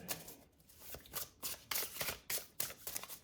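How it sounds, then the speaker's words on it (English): A deck of tarot cards being shuffled in the hands up close, giving a quick series of crisp riffling bursts with brief gaps between them. "I'm gonna give this deck a shuffle"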